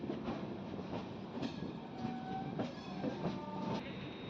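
A superfast express passenger train rolls steadily along the track near Gudivada station, a continuous rumble with rhythmic clacks of wheels over rail joints and faint high squeals, close and loud.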